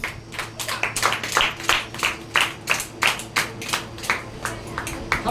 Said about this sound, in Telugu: అందరూ కూడా చప్పట్లు కొడదామండి